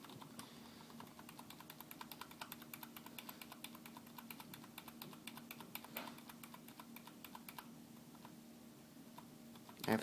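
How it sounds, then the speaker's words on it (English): Keys clicking on a computer keyboard while entering BIOS setup on a Dell OptiPlex 740 desktop, a steady run of light, close taps over a low hum, ending with one louder click. "now as you see, I'm clicking F2."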